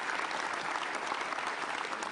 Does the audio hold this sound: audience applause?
yes